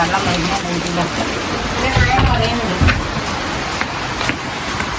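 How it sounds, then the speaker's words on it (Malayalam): Steady, heavy rain pours down on a leaking house, a loud, continuous wash with a few heavier thumps midway and faint voices underneath. "നല്ല മഴ."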